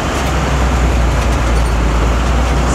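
An MSRTC bus pulling out of Beed bus station, a loud steady engine drone and road rumble heard from inside, constant and unbroken with no voices.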